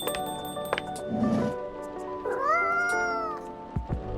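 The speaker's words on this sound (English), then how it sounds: "No, I think Rachel was a black cat." A cat meows in the video game Coffee Talk: one short mew, then a longer rising meow, both clear over soft background game music.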